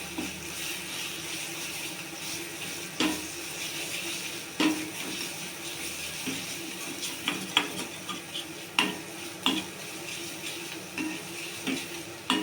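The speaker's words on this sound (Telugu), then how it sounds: "ఇది కూడా కొంచెము నూనెలో వేగాలి" Ginger garlic paste frying in oil for a crab curry, a steady low sizzle with scattered clinks and scrapes of stirring, no voices.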